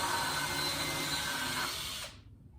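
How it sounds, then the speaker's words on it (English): A power drill bores a pilot hole in wood for a coat rack, a loud continuous high whir heard close up for about two seconds before it cuts off abruptly. "I'm going to drill my pilot hole like I should have."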